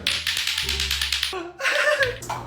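Rapid hard clacking of a lato-lato clacker toy, quick repeated knocks, then brief voices and a few more clacks close by.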